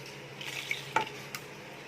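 Sautéed pumpkin poriyal being stirred in a pan, a faint steady sizzle broken by a couple of soft scraping strokes near the middle, close and quiet with no talking.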